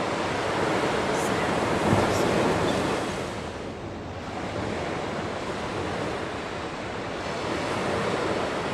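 Ocean surf on the shore at Maui, Hawaii, a steady loud roar of breaking waves with wind buffeting the microphone, swelling and easing slightly over several seconds with no voices.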